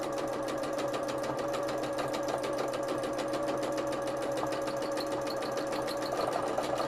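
A sewing machine stitches free-motion embroidery through hand-painted fabric backed with wadding, its needle hammering in a fast, steady, even rhythm over a constant motor hum.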